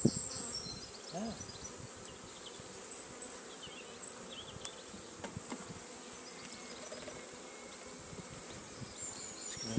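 A swarm of bees in a WBC hive gives a steady, close, busy hum, with individual bees buzzing past nearby and faint rustling and handling noises underneath.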